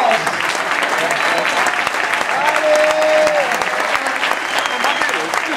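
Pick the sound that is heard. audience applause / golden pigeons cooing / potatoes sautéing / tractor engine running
audience applause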